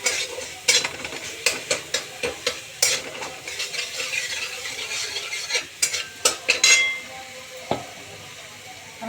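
A spoon scrapes and clinks rhythmically against a pot while a thin vegetable curry with turmeric and salt is stirred, with soft sizzling between the strokes.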